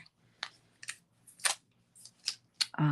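Scissors snip through paper for stamp crafting in a handful of crisp, separate cuts spaced about half a second apart, close and clear, ending in a louder rustle.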